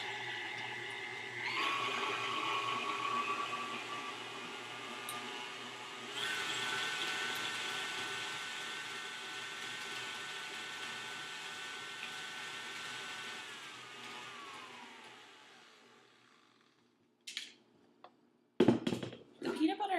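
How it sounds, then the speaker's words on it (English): KitchenAid stand mixer with the paddle attachment beating peanut butter and butter at medium speed, a steady whirring motor drone that runs for about fifteen seconds, then winds down and stops, followed by a few clunks and knocks. "We're going to combine the peanut butter and butter on a medium speed for just a few minutes"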